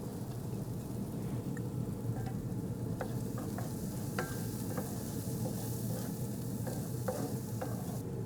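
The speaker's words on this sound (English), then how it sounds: "So next we're gonna throw in our garlic" Garlic sizzling in a pan for shrimp etouffee, a dense continuous frying hiss with scattered sharp pops and spatula clicks throughout, close and steady with no talking.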